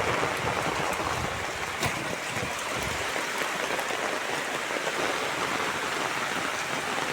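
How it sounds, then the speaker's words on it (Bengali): Heavy rain pours steadily in Kerala during a downpour, with flooding around a house, a loud, continuous broadband wash of water with no break and no talk. "প্রচুর পরিমাণে বৃষ্টি হচ্ছে তো বন্ধুরা"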